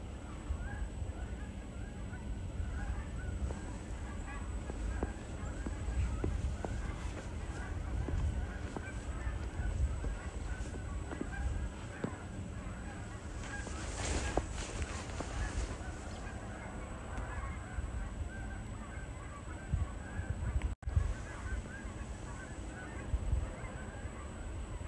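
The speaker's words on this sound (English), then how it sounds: "More geese are coming" A flock of geese honks repeatedly from the trees on a snowy day at a red barn, the calls overlapping and growing busier as more birds approach, under steady outdoor noise.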